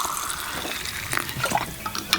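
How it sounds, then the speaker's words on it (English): Raw apple cider vinegar pours steadily over dried elderberries, a continuous close splashing trickle of liquid with no talking. "all you're going to do is pour that over the dried berries"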